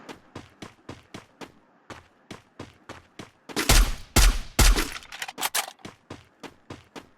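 Gunfire in a battle royale video game taking down an enemy: a steady series of single shots at regular intervals, then a loud dense burst of rapid fire in the middle before the single shots resume, with no talk.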